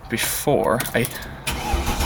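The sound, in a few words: Mercedes W204 AMG convertible engine starting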